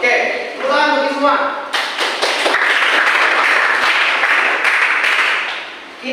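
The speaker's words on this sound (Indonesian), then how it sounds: "tepuk tangan bagi semua" Classroom audience applauding during a teaching session, a burst of dense clapping from a group that swells and holds for several seconds before fading, following a teacher's voice at the start.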